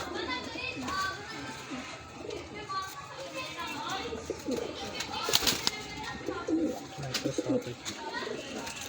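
Breeder's pigeons cooing in a loft, soft low coos mixed with brief wing flutters and clatter, while someone talks over them.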